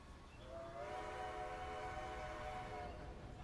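Train passing through snowy mountain wilderness, a distant sustained whistle held for about two seconds over a low rumbling rail drone, faint and far off.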